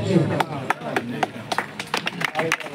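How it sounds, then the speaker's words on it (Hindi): Scattered claps from a rally crowd, a handful of sharp hand strikes spread unevenly across a couple of seconds, close and fairly loud, mixed with a murmur of voices and someone talking. "ताली बजाओ भाई ताली बजाओ"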